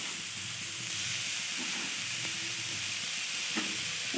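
Fried grated coconut and date palm jaggery stirred in a wok over a gas flame, giving a continuous low sizzle and hiss broken by occasional soft scrapes and knocks of the spoon, heard close with no talking.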